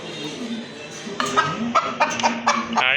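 An Egyptian Fayoumi hen clucks in a run of short, repeated calls over a steady background hum, close and clear.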